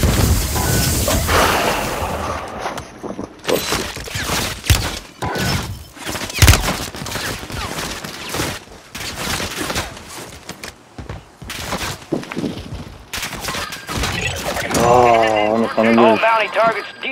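Gunfire and explosive booms in a Call of Duty match, with irregular bursts of shots and heavy thuds throughout, loud and close, mixed with in-game voices and radio chatter.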